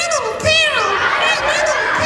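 A voice sped up and pitched high like a chipmunk through interactive music technology at a school assembly, a thin squeaky speaking voice, close and clear with faint crowd murmur behind.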